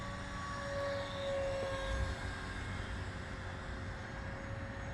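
A model aircraft drones steadily overhead on a slow circuit before landing, a thin continuous engine whine at moderate distance over an outdoor autumn backdrop.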